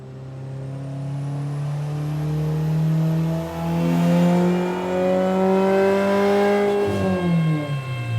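A race car's engine drones loudly and steadily on a dyno during a baseline power run, its pitch climbing gradually under load before dropping sharply near the end as the throttle comes off.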